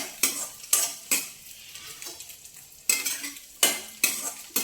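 An egg frying in a pan with okra is scraped and lifted out with a spatula, giving several sharp metal scrapes and clinks spaced across a soft background sizzle, close by with no talking.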